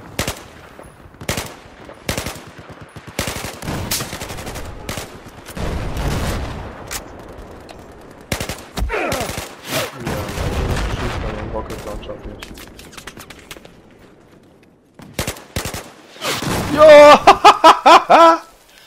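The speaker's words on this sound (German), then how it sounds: "Da schießt was auf mich." Enemy gunfire in Battlefield 4 from a sniper on a hill: scattered sharp shots and bursts throughout, ending in a loud rapid machine-gun volley, with someone talking over much of it.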